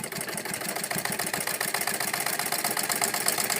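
A sewing machine stitches salwar fabric, running at a steady, rapid mechanical chatter of needle strokes throughout, close and moderately loud with no voices.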